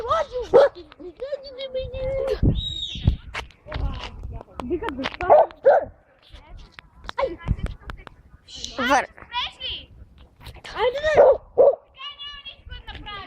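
A dog barks and whimpers in short bursts among lively children's voices and chatter outdoors, the barks close and loud and mixed in with the talk.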